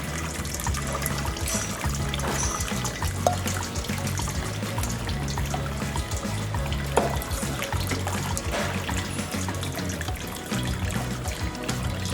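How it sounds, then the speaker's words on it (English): Bonito and kelp broth is poured through a colander into a bowl, making a steady, continuous trickle and splash of liquid that runs evenly for about twelve seconds at a moderate, close level. "filter broth through colander on the bowl"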